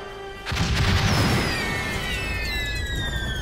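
Loud gunfire and a heavy boom erupt in an animated G.I. Joe Renegades action episode set during a military police raid on a cage-fight site, a sudden blast followed by sustained rumbling chaos and sweeping high whines.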